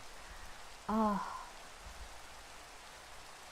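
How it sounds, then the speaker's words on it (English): Steady soft hiss of rain falling in the Minecraft video game, a faint continuous wash that carries on the whole time, with a brief voiced exclamation near the start. "It's raining now in Minecraft."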